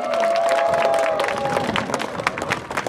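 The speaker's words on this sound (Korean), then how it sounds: "큰 박수 부탁드리겠습니다." Crowd at an outdoor Democratic Party campaign rally in Sejong clapping and cheering, loud and dense, with a sustained tone and voices mixed in early before the applause carries on alone.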